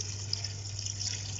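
Water is poured steadily into a cooking pot for aloo gosht, a little over half a litre, producing a continuous close gushing fill with a low hum beneath and no talking.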